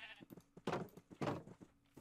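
Repeated bleats from a sheep in Minecraft survival mode, several short nasal calls in an irregular rhythm with two louder, longer bleats standing out, close and clear with no talking.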